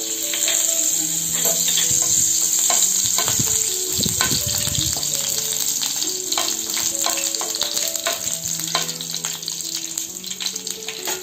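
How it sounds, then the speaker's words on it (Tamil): Curry leaves crackling and frying in hot oil, a loud, continuous sizzle with dense pops and spits, and a brief stirring scrape in the middle. "கருவேப்பிலை நல்லா பொரிஞ்சது"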